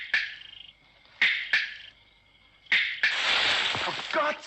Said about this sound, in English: The idea behind the cricket was that it would provide a subtle method of signaling one's presence.